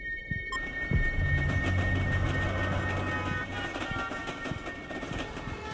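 Steady rumbling train noise fills the background of a played-back recording, a continuous dense roar with faint tonal hum running throughout, no voices over it.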